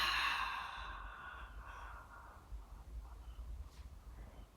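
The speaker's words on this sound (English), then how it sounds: "Exhale." A slow, breathy exhale during a core exercise, loud at first and trailing off into quiet room tone over a few seconds, with no talking.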